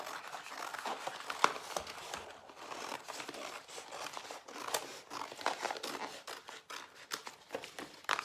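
Scissors snip and paper crinkles while pieces are cut out for a mirror redo, giving close, irregular repeated cutting and rustling throughout.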